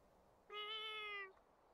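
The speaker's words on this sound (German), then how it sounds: "Ich höre eine Katze." A cat in the video game Little Witch Nobeta lets out one clear, drawn-out meow, close and fairly loud against a quiet background, lasting about a second.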